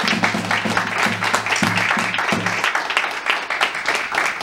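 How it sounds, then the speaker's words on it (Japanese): Crowd clapping at the end of a live concert, dense and continuous, with a low held musical note fading out partway through. "もう一度さらに大きな拍手をお願いします。"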